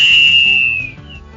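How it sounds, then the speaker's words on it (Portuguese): A single long referee whistle blast, loud and close, marks the final whistle of a football match, holding steady before trailing off. "Apito final no Boleirando de hoje."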